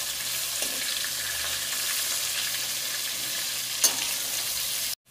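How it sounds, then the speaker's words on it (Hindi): Potatoes fry in a pan of hot oil as a dense, even sizzle that holds steady for a few seconds before cutting off abruptly, with no talking. "आलू है डाल दे रहे हैं, आलू के भी भूंज लेंगे।"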